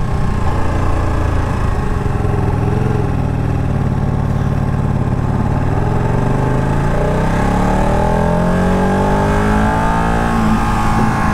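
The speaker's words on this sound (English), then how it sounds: "that's when this bike sounds like it's supposed to, when you're throttling up on it" A 2018 Ducati Panigale 1299R Final Edition motorcycle engine throttles up loudly and continuously, its pitch rising and falling as the rider accelerates on the road, with no talk.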